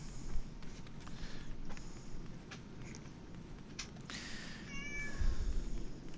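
A cat meows faintly in a room while a Final Fantasy 14 Stormblood game plays in the background, with soft creaks and a low rumbling bed of noise throughout.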